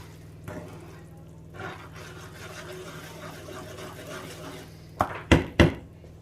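Butter is stirred into a caramelised apple mixture in a pan, soft scraping and stirring under low hum, with a few knocks and then three sharp clinks of a utensil against the pan near the end.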